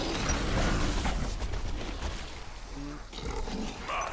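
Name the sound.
war machine activating in video game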